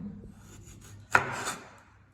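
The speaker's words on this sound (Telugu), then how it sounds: "నిమ్మకాయ నిమ్మకాయ కట్ చేసుకొని" A single knife stroke slicing through a lemon on a cutting board while preparing an onion pickle, one short crisp cut standing out against near silence.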